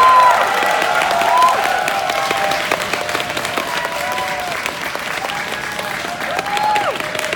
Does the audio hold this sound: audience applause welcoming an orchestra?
yes